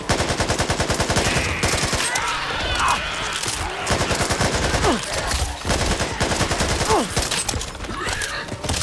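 Rapid gunfire from the Back 4 Blood zombie shooter, dense bursts of automatic fire loud and close, nearly continuous with brief gaps for reloading.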